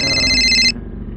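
An electronic phone ringtone chimes loudly in bright, steady tones, then cuts off abruptly and leaves a low, murmuring background bed.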